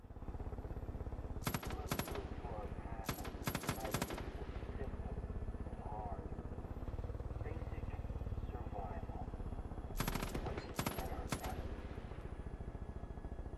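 Automatic machine-gun bursts in a video game with unlimited ammo, several rapid rattling volleys in clusters over a steady background of game ambience and engine-like rumble.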